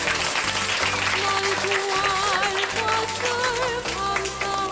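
An audience at a large family gathering applauds with steady, continuous clapping. Talk and background music run beneath it.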